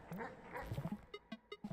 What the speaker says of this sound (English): Go away, doggy.